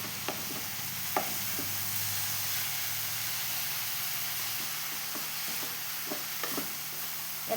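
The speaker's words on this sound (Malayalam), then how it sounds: "എന്നിട്ടെല്ലാം കൂടി നല്ല വൃത്തിയിൽ ഇളക്കി കൊടുക്കുക." Spoon scraping through flattened rice, banana, sesame seeds, cashews and raisins in a pan, with sparse separate clicks and scrapes over a soft steady hiss, close by and quiet, no voices.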